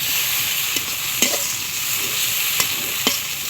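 Onion and chillies hit a pan with fried pangas fish, giving a loud, dense, continuous sizzle up close, broken by a few sharp spatula clacks against the pan as it is stirred.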